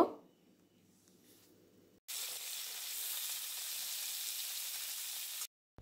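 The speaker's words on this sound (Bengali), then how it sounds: "যে সবজিগুলো সেদ্ধ হতে বেশি সময় লাগে, ফুলকপি আর আলু। এগুলো কিছুটা ভেজে নেব।" Cauliflower and potatoes fry in a pan with carrots, a steady loud sizzle that starts abruptly after a quiet lead-in and holds evenly for about three seconds before cutting off.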